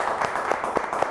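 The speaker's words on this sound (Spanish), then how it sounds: "Un aplauso, por favor." Audience applause at a Venezuelan electrical cable company event, a short burst of steady rhythmic clapping from a modest crowd.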